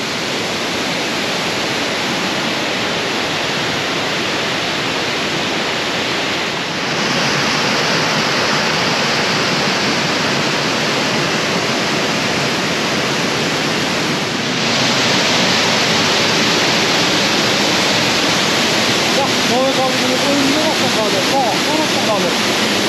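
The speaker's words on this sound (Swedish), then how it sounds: "Tre stycken, små vattenfall" A constant roar of three small waterfalls near Pakse, Laos, loud and close, with a faint voice briefly audible near the end.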